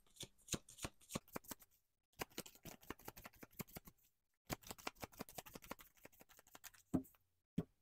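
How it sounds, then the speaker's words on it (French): Tarot cards are shuffled by hand in quick bursts of crisp riffling flaps, with brief pauses between the runs. A few sharper single taps come near the end. "quatrième tirage de tarot."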